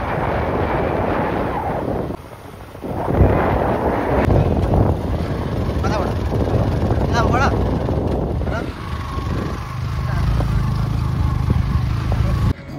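Two motorbikes ride slowly through light rain on a cold day, a steady engine drone buried under heavy wind buffeting the microphone, with a rider talking over it.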